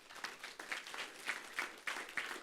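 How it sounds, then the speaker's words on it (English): A small group gives a brief round of applause for a friend's birthday at a wedding gathering, with scattered claps swelling and fading in uneven bursts, moderately faint and close. "can we just give him applause?"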